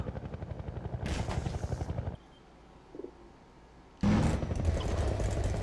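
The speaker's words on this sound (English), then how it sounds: "The chopper started firing again?" A helicopter gunship in Half-Life 2 opens fire in a rapid machine-gun rattle over its rotor drone, breaks off into near quiet, then resumes with a loud, sudden burst.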